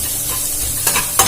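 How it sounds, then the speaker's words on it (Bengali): Egg and potato mixture frying in a pan, a loud hiss of oil with two quick scraping stir strokes near the end, close up. "আবারও এটা ভালো করে নাড়াচাড়া করে আমি ভেজে তুলে নেব।"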